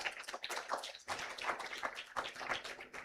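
Audience clapping at a graduation ceremony held in a Nairobi hotel, a dense, even patter of many hands that holds steady throughout without talk.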